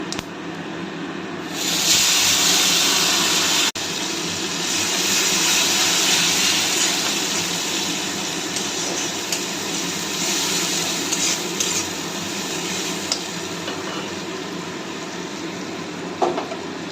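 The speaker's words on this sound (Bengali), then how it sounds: "এবার পেঁয়াজটা ভেজে নেব" Onions fry in hot oil in a pan seasoned with whole cumin seeds and bay leaf for chicken curry, a loud steady sizzle filling the clip alone, swelling after a brief quieter start.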